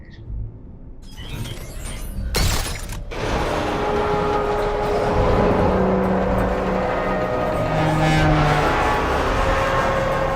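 Batman's Batmobile in a video game backs up with a clunk and a short burst of mechanical noise, then a steady loud engine roar and rumble that holds close and alone for several seconds.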